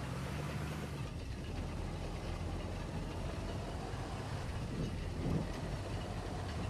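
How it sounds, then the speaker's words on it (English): A damaged vehicle engine in the video game Arma Reforger runs steadily throughout, a continuous rough, rumbling drone with a rattling, clattering texture at constant loudness and no voices. "That engine doesn't sound too good."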